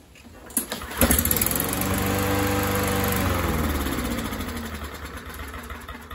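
An MTD 21-inch push mower engine pulled to start, catching after a short tug and settling into a steady, close running drone that fades slightly toward the end.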